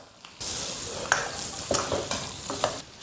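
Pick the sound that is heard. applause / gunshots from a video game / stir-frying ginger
stir-frying ginger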